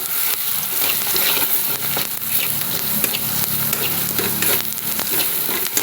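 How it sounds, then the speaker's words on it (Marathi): Red chili powder and spices being stirred into a pea curry masala in a hot pan, a steady scraping stir over continuous close sizzling and frying with no talk. "आणि आपल्या लाल तिखट. तुम्ही तुमच्या आवडीनुसार तिखट हे कमी जास्त करू शकता. छान असं हे सगळं मिक्स करून घ्यायचं."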